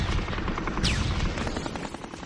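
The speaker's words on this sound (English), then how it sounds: "Machine gun fire was going off, small arms were going off" Machine gun and small arms fire in battle form a dense, loud rattle of overlapping shots, with a brief descending whistle cutting through the barrage.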